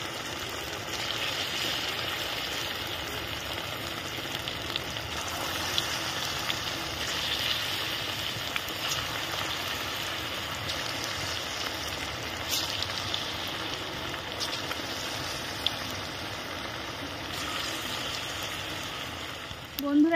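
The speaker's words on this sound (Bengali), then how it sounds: "এবার আমি মাংসগুলো একটা একটা করে পিস ছেড়ে দিব কড়াই দিয়ে দিচ্ছি" Chicken pakora pieces fry in oil in a wok over low heat, giving a steady, dense sizzle and bubbling that runs unbroken throughout, close and moderately loud.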